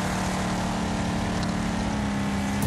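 A car engine in the demolition-derby racing game Wreckfest, held in second gear, drones at a steady, loud, unchanging pitch throughout with no rise in revs.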